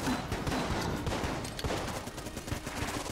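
Rapid M16 automatic fire in the video game Enter the Gungeon, a dense continuous burst of close, loud shots with a steady rattling rhythm and scattered game effects throughout.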